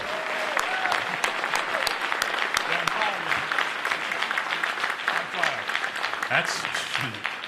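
Sustained audience applause fills a live broadcast event before an awards ceremony, dense steady clapping throughout with some voices mixed in under it.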